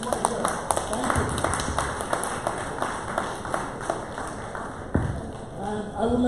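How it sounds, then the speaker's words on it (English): Scattered audience clapping at a live-streamed panel event, individual claps loosely spaced rather than a full ovation, heard under a prominent speaking voice. "a round of applause for everyone who participated who was here"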